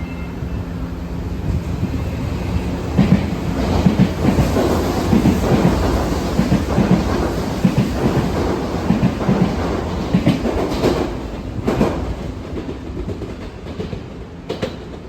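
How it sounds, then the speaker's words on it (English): An Odakyu Romance Car limited express train passes in Japan, a continuous loud rumble with rhythmic clickety-clack of wheels over rail joints, sustained throughout with no voices. "Their romance car limited express trains."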